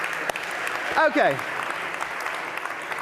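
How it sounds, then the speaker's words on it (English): An audience at a tech innovation event applauds itself, a steady close wash of clapping throughout, with a person briefly speaking over it partway through. "clap for yourselves"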